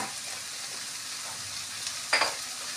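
Capsicum and onion frying in a pan, a soft steady sizzle with one brief sharper hiss or clatter near the end, alone with no talk.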